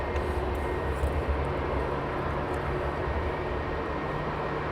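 Airliner passing overhead at Heathrow Airport, a steady moderately distant engine roar with a low rumble sustained throughout, no talk.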